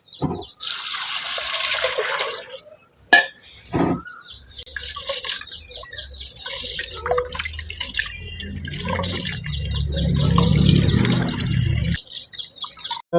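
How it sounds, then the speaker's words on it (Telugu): A quarter kilo of pigeon pea lentils (toor dal) being rinsed clean in water: running tap water, splashing, sloshing and dripping in close, uneven bursts, ending in a louder stretch of pouring. "పావు కేజీ కందిపప్పు చక్కగా దీన్ని కడిగి శుభ్రం చేద్దాం"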